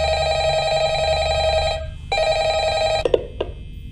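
A phone rings twice in Five Nights at Freddy's at the start of the night 4 call, loud and alone, followed by a few short knocks or clicks.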